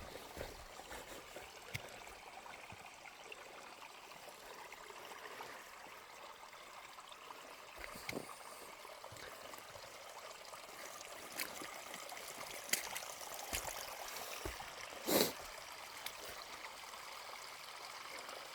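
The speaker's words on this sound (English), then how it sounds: "we're coming up on a little river. I love that. Running, hearing water going down the mountain." A small mountain stream runs along a redwood trail in Oregon, a steady soft rush and trickle of water heard from a short distance, faint and continuous with occasional light knocks.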